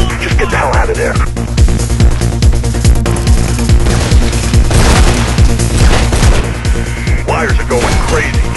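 Loud, rapid gunfire crackles in repeated bursts in the video game Mirror's Edge, over a dense, booming soundscape with rumbling low-end, like an intense firefight.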